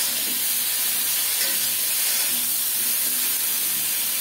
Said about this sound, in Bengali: বেগুনগুলোকে একটু ভালোভাবে ভেজে নেব।